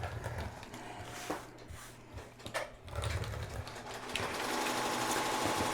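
An electric cutter works its way around appliqué fabric decorated with sequins, giving a close, rapid mechanical buzz that stops and starts in short bursts, then runs steadily toward the end, with no talking.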